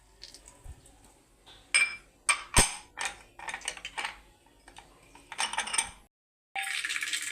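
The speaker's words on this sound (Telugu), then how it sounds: "ఆవాలు వేసుకుందాం." Cumin and mustard seeds tipped into hot oil for Andhra-style stuffed brinjal curry: light clinks and taps of a spoon against the pan give way at the end to a burst of bright crackling sizzle.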